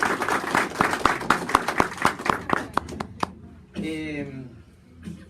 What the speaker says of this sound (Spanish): quiero pedirles un aplauso para mi